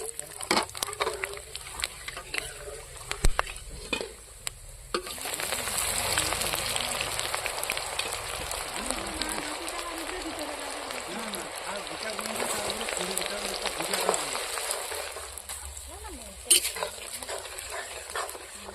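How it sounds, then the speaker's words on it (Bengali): Potatoes frying in a pan give a steady crackling sizzle from around five seconds onward, with voices talking at times and a few sharp clatters near the start. "আলু ভাজছে।"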